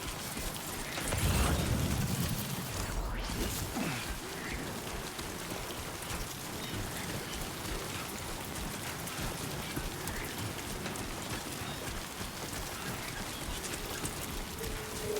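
Steady, dense timefall rain pours down evenly throughout in Death Stranding 2, with a heavy rumbling thud near the start.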